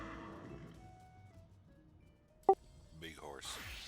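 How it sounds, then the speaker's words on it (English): A horse in the Final Fantasy XIV video game gives a single sharp neigh, then a longer wavering whinny follows, both near and clear over quiet game background after some soft talk. "Big old horse."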